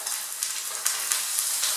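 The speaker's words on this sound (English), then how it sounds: "Now you can hear it sizzle and it sort of shrinks up." Duck breast, its skin rubbed with a little oil, sizzles skin side down in a dry frying pan with no oil, a steady close crackling hiss with small pops and no talk.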